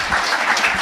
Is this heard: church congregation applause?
yes